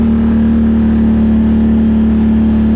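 An ATV rides off through leftover snow, its engine holding a loud, steady droning hum close to the microphone with no pauses or voices.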